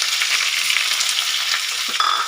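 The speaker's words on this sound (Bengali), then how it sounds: "পেঁয়াজটা একটু লাল লাল হয়ে ভাজা হবে।" Onions fry in a pan with whole spices: cloves, cumin and black peppercorns. A loud, continuous sizzle runs throughout, with a brief stirring scrape near the end.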